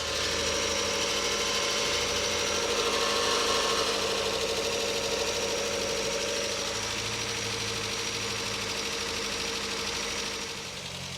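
An idling 1981 European VW Golf GTI engine heard up close, a steady mechanical whir and hum from belts and ancillaries running continuously without voices.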